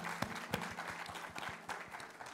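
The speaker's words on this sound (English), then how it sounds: "I'd like everybody to have an applause for them." Lecture audience applauding, a brief burst of scattered, fairly distant hand claps with a faint hum beneath, steady for a couple of seconds.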